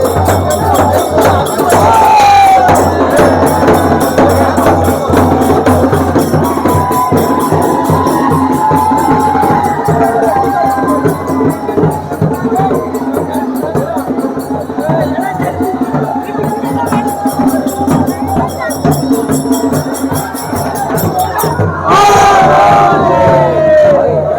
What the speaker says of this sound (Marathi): हा श्रीवर्धनकरांचा जो जल्लोष आजचा पाहायला मिळतोय